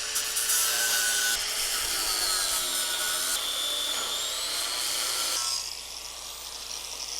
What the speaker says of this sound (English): we're trying to cut this one with an angle grinder